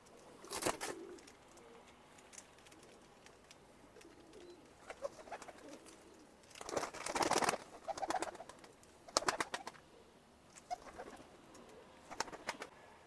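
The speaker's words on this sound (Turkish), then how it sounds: "Arkadaşlar kuşlar uçkundur." Domestic pigeons, Adana high-flying tumbler breeds, coo softly in a quiet loft, with several repeated cooing bursts and a few wing rustles spread across the clip, close but faint.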